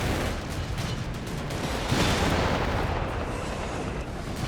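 Sustained artillery barrage in Company of Heroes 3 on the Winter Line map, a dense, continuous roar of booms and blasts with no clear gaps, loud and close.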